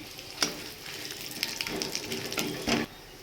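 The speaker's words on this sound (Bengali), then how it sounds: "এই তেলেই আমি তেজপাতা, সাদা জিরে আর গোটা গরম মশলা ফোড়নে দিয়ে দিলাম" Bay leaf, cumin seeds and whole garam masala tempering in hot oil, a close crackling sizzle with several sharp spits and pops, one louder burst near the end, no talk.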